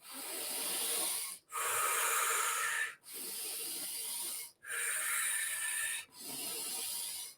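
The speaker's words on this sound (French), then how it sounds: "En inspiration, on inspire, on expire." Deep, slow breaths during a guided breathwork exercise at a spring retreat, five long airy inhales and exhales flowing one into the next with brief pauses between, close and steady, no talking.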